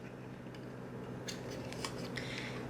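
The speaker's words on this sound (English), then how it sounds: "I use my adorable little egg slicer" An egg slicer cuts through eggs in a home kitchen, giving faint, crisp snipping clicks scattered over a quiet room hum.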